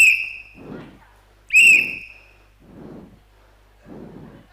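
Two sharp, shrill whistle blasts, each followed by a short spoken reply in turn, with two more brief replies afterward and no whistle.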